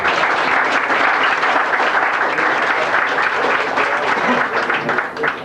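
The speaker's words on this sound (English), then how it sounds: "for that I think they deserve a round of applause" Passengers aboard a Carnival cruise ship applauding the officers and quartermasters, a loud, sustained, dense round of clapping close by that barely varies across the whole stretch.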